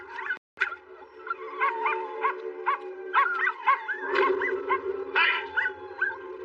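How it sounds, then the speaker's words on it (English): Several dogs bark and yip across a residential neighbourhood with houses close together, sharp repeated barks overlapping in an irregular, fairly loud run with a brief gap near the start. "the barking seems to follow him everywhere"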